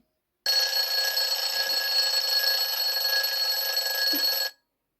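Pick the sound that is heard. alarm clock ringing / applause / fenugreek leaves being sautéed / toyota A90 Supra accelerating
alarm clock ringing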